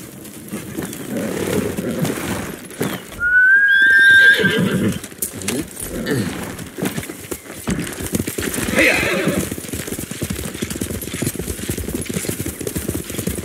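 A horse whinnies loudly with a rising, shrill call in the video game Ghost of Tsushima, joined by clip-clopping hooves and background voices talking over ambient noise.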